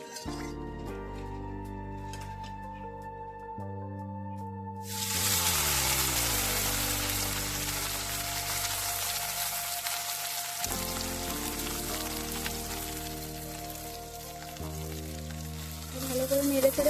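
Small fish drop into hot oil and burst into loud, close sizzling that keeps going, after a quiet opening with only background music. The music continues beneath the frying.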